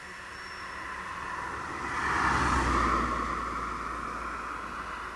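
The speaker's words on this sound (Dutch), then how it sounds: "Zijn de auto's in aantocht?" Cars approaching on a road, a broad whooshing roar that swells to a peak midway as a vehicle passes near, then fades slightly while traffic noise continues.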